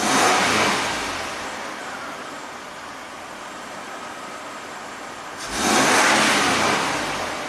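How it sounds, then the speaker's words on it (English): A third-generation Toyota 4Runner engine revs up twice in strong, close bursts of throttle, each swelling and then dropping back to a steady idle between them. "Let's rev it up."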